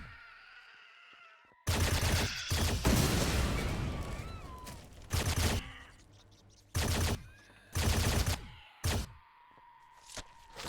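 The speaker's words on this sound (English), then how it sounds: "You best not be shooting at my ship." Gunfire in the video game Empyrion, with bursts of shots aimed at a powered-off ship: a long opening volley, then short separate bursts spaced several seconds apart, loud against quiet pauses.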